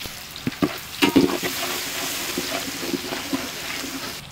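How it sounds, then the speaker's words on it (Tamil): Crushed garlic frying in a pan for crab rasam, giving a steady close sizzle with occasional stirring clinks and scrapes throughout. "பூண்டு நல்லா வதங்கி வந்துருச்சு"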